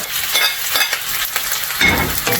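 Pork liver sizzles and spits in a hot pan while being stirred with other meat for pancit miki guisado, a dense crackling fry with occasional scraping of the utensil, loud and close.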